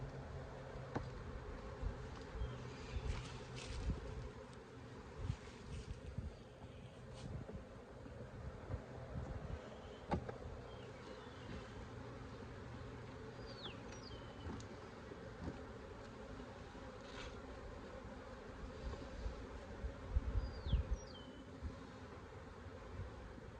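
Bees buzz steadily during a beehive inspection, a constant hum close to the microphone with light wind noise and occasional handling sounds.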